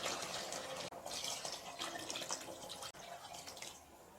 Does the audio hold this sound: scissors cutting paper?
no